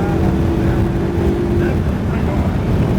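A Ferrari 488 GTB engine on a race track gives a loud, continuous rumbling drone with steady wind and road roar through the cabin, partly masked by the noise.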